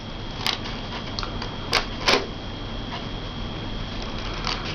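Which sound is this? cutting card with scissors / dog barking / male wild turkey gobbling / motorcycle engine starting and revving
cutting card with scissors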